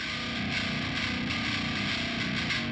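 A thick, heavily distorted modern metal bass guitar tone sustains loudly and evenly, fuzzy and saturated with a gritty high-gain edge.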